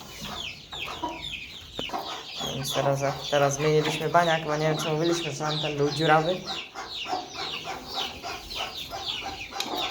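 Chickens cluck and squawk nearby throughout, with a run of louder, sustained calls in the middle, while someone talks over them.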